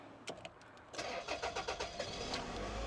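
A 2000 Toyota Estima, a right-hand-drive minivan, cranks with a quick series of starter pulses and then catches into a steady idle, heard fairly close and alone.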